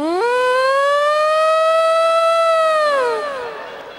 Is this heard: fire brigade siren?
yes